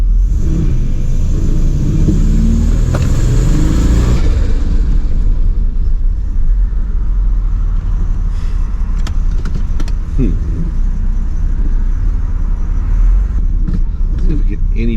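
A Turbo Trans Am engine is revved hard against the brakes in a parking lot, a loud, close, deep rumble that swells and then holds, with someone talking over it.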